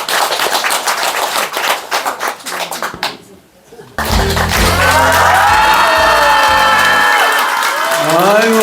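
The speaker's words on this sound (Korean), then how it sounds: "박수." An audience claps in a dense burst of applause for about three seconds, fading briefly before loud music with a sustained melody takes over.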